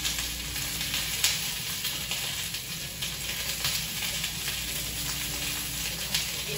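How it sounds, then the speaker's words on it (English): Spinach sautéing in olive oil in a hot pan, a steady dense sizzle running throughout with faint stirring ticks, close and continuous, no voices. "And you sauteing your vegetables"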